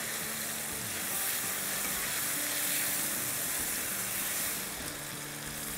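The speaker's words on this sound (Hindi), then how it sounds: "तो अब टमाटरों को इस तरह से कर लेंगे कि वो स्मुश हो जाए बिल्कुल।" Onions and tomatoes frying in a pan while being mashed, a steady sizzle with soft scraping and stirring underneath, continuous and close.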